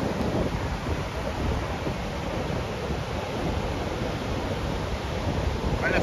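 Surf rolls onto the beach at Praia da Enseada in Guarujá, a steady broadband wash of waves mixed with wind noise on the microphone, continuous and moderately loud, with no clear talk.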